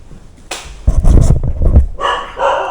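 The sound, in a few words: dog barking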